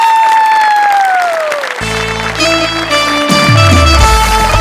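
A studio audience claps and cheers loudly after a comedy skit, with the applause swelling as music plays over it.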